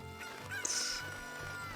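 Chickens in the video game The Legend of Zelda: Ocarina of Time, with one brief squawking cluck rising over steady game music.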